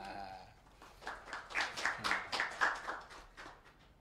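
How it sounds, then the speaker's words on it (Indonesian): Applause greets a guest on a Javanese arts program, a dense run of clapping from a small audience that swells and then thins out. "Tepuk tangan luar biasa"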